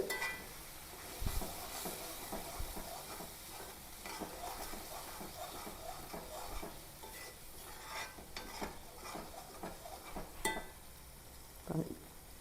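A pan of thick sardine pickle gravy bubbles and sizzles steadily, with occasional stirring scrapes and clinks close by, no voices.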